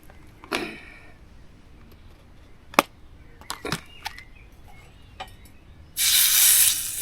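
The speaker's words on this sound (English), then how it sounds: "Let's see if we get the sizzle." A fillet steak hits a hot pan near the end with a sudden loud, close sizzle, after scattered clicks and clatters of cooking utensils in an outdoor camp setting.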